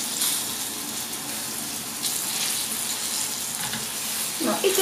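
Meatballs sizzle in a frying pan over medium heat, a steady close crackling hiss that continues throughout, with a brief clatter near the end.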